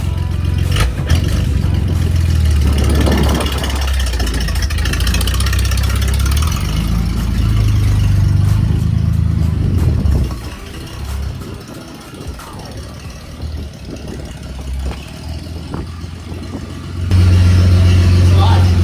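A 1941 Plymouth barn find running on its first drive in 50 years, its engine idling and pulling loudly with a dip in level midway before rising again, while people talk nearby.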